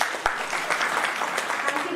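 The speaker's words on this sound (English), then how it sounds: "welcome Ms. Shweta with huge round of applause, please" A conference audience claps to welcome a speaker, a steady, moderately loud round of applause with a few sharper individual claps standing out, lasting about two seconds.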